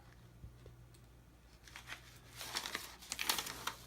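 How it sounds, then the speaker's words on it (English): Adhesive book cover film having its backing peeled away while covering a paperback for a school library, a crinkly tearing rustle that starts faint and grows louder and denser toward the end, close by with no talking. "you can peel off the backing"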